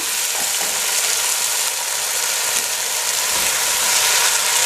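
Capsicum and cherry tomatoes fry in a hot pan for a pasta sauce, giving a steady, close, loud sizzle with faint stirring clatter and no talk.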